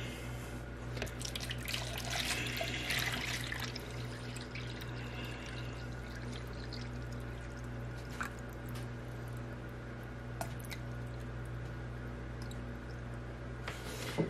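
Distilled water poured into a container for measuring while making soap, a faint, continuous trickle with small drips and splashes against a low background hum.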